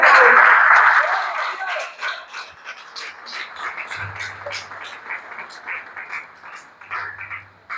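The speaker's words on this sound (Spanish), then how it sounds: "Vamos a darle un aplauso a Dios." A church congregation claps in a loud burst of applause that quickly tapers into scattered claps, with a voice talking over the tail and a low hum coming and going.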